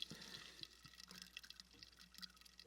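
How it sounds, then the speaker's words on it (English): Liquid fizzes inside a bottle, a faint, close, steady hiss of tiny popping bubbles with scattered soft crackles and drips. "Ooh, it's still fizzing. Hear it?"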